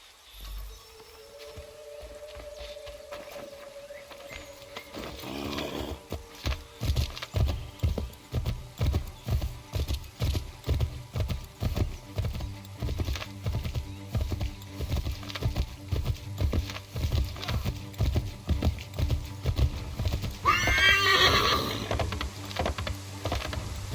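Hooves clop in a fast, steady rhythm as a horse gallops for a long stretch in the game Assassin's Creed III Remastered, with a whinny near the start and another near the end.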